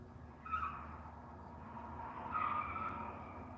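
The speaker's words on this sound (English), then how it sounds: "Oh my goodness, somebody's driving really fast." A car speeds past outside, its engine and tyres giving a broad, steady rush with two louder swells as it races by at a distance, heard alone without talk.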